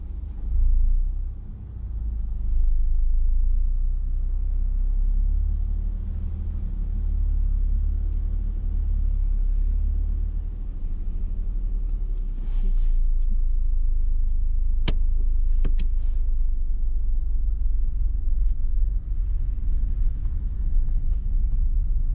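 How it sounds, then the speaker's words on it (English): A car engine idles and runs steadily during a driving lesson, a continuous low rumble throughout with a few brief clicks partway through, no talking. "You'll just need to press the clutch fully down and then just press the buttons to turn it on."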